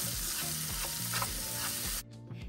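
Green bell peppers with a pinch of salt fry loudly in a pan, a dense sizzle broken by repeated scraping stir strokes, before the sound cuts off sharply near the end.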